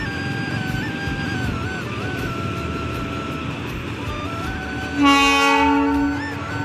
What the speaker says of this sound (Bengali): ছোট্ট ট্রেন এটা